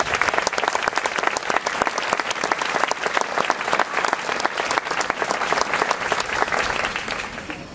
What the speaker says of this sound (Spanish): Un aplauso para ellos dos, gracias.